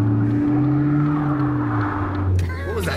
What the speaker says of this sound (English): I think it was just my car moaning because I was accelerating too quick